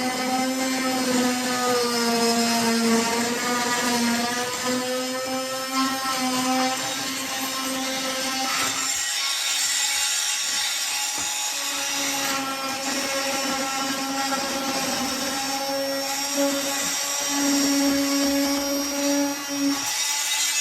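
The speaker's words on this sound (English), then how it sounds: "Cutting today is just going to be with this little oscillating saw" A small oscillating saw cuts a slot into a Z panel for electrical conduit, giving a steady, close, high-pitched buzzing whine that dips briefly partway through before resuming.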